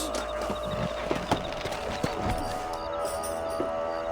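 Steady clip-clop of horse hooves trotting in Red Dead Redemption over a constant background hum, with occasional louder knocks, moderately loud and continuous.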